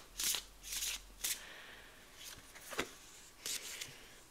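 Tarot cards being shuffled by hand up close, a few quick riffling swishes in short bursts separated by brief pauses, soft and alone with no talking.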